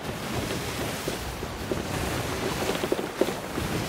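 Ocean waves in a video game roll and wash in a continuous broad rush, with a few soft splashy peaks rising out of the steady surf and no voices over it.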